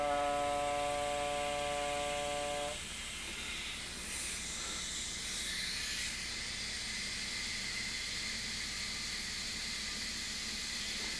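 Gas hissing steadily as a Micromatic regulator on an aluminum tank pushes beer at about 7 psi while pressure racking, a constant broad hiss that follows a brief harmonic whine at the start and continues without talk.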